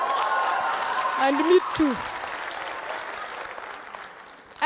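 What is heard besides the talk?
audience applause at university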